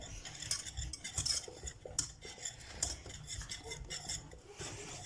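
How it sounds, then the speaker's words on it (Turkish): A spoon stirs a pasta mixture in a pot over heat, soft repeated scraping and clinking against the metal in an uneven rhythm, close but quiet. "şimdi bunu kaynayana kadar karıştırdım. Karıştırıyoruz."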